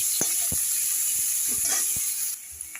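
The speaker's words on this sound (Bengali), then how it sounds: "এখন আমি এইগুলোকে ভাজা করব" Steady high hiss of potatoes and flat beans frying in hot oil, with a few soft knocks and clinks of a utensil against the pan.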